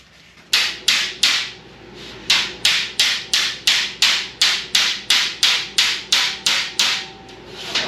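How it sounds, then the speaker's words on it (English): Steady hammer blows on sheet metal edges of a Model A firewall floor pan, about eighteen sharp ringing strikes in an even rhythm after a brief quiet start, loud and close. "And I'll hammer these edges just a little bit more,"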